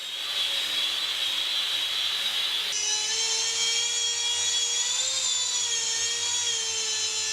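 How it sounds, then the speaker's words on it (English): A steady, high-pitched power sander with a 60 grit disc grinds continuously against the hard surface of a large sculpted figure, its whine shifting slightly in pitch partway through. "I use the 60 grit sanding disc."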